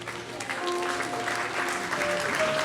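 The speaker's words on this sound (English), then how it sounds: "Cela mérite bien un deuxième tour d'applaudissements." A school-anniversary crowd gives a second round of applause to the AISB school orchestra, continuous clapping that swells slightly as it goes, with a faint musical tone lingering underneath.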